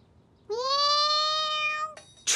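A cartoon cat lets out a single long, clear meow, loud and close, held for about a second and a half before cutting off sharply, with a brief burst of noise right after.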